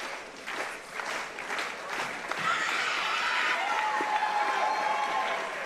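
Crowd at the Battle of Atlanta 2025 karate championship, part of the NASCAR World Tour, clapping along during a traditional performance, a steady rhythmic wash of hands and crowd noise that builds and holds at moderate volume with voices mixed in.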